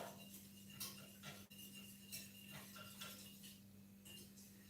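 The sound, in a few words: stirring pumpkin puree into warming milk in a pan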